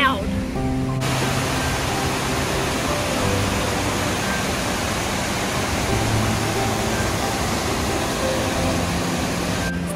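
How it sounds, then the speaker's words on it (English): Shannon Falls, a powerful waterfall, roars as a loud, steady, broadband rush that fills the whole stretch at close range, with no talking. "This waterfall is powerful"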